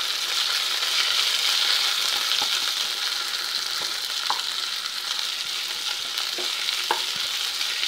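Paneer masala gravy frying in a little oil gives a steady, close sizzle, with occasional light clinks and scrapes of a spoon stirring through the pan, and no voices.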